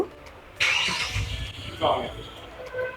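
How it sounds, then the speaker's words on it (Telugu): A Kia Seltos engine cranks and starts by remote key fob while people stand outside the car, the start rising to a steady idle with a second surge, heard from nearby amid talking. "మనం బయటే ఉన్నాం, కార్ స్టార్ట్ అయిపోయింది కీతో"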